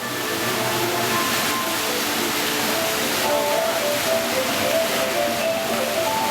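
Rushing, splashing water from a fountain water show at an Austrian winery, a steady loud wash that carries through the whole stretch without pause.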